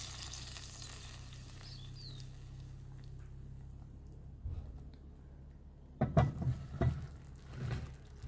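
Jamaican jerk fish frying in a pan, a faint low sizzle and bubbling under room noise, then a few louder clattering bursts of the fish being moved and turned near the end.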